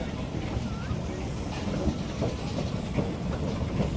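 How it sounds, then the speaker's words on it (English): A vintage Cowley road roller rolls past towing an old log jinker, giving a steady, loud low rumble with faint rattling and clanking throughout, heard outdoors under general background noise. "beautifully presented Cowley road roller there as it goes by, towing the old log jinker"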